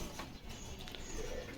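Pigeons sold as mated pairs coo softly at a pigeon market, a faint, low call under steady background noise.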